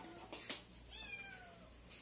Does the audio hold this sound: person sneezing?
no